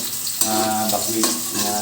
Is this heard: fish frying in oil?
yes